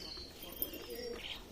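Desi giribaz pigeons coo softly while pecking at eggshells, with faint chirps and light movement close by.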